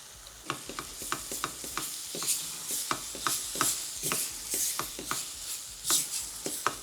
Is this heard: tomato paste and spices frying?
yes